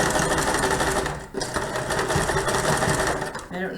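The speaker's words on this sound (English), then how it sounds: "you might even go back and give it a second second row of stitching just to keep it more secure" A sewing machine runs steadily while stitching a second row on a fabric face mask, loud and close with a continuous motor whir, pausing briefly once.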